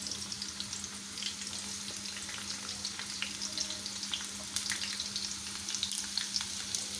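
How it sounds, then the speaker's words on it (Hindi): Onions sizzling in about half a cup of hot oil for a besan karhi baghar, a steady dense frying crackle with small pops throughout, close and continuous with no voices. "हमने भगार में हमने तकरीबन हाफ़ कप ऑयल लिया है, जिसमें हम पहले अपनी प्याज हम लाल करेंगे।"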